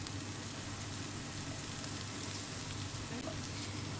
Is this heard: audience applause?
no